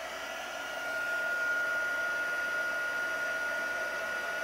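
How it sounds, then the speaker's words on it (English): A heat tool warms and melts embossing powder on a stamped card, giving a steady, close blowing whoosh with a faint whine that holds evenly throughout, with no talking. "it takes a minute for it to heat up and start melting the embossing powder"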